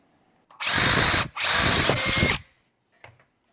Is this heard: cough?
no